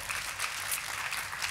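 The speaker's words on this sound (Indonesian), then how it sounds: "Boleh kita beri tepuk tangan yang paling meriah?" Congregation applauding in a church service, a brief soft wash of many hands clapping, fairly distant and continuous without any voices on top.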